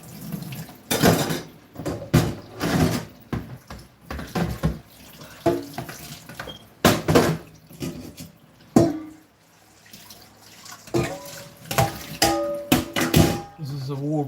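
Dishes and knives are rinsed under cold running tap water, with bursts of splashing flow, clinks of cutlery and crockery, and intermittent talk between the rinses.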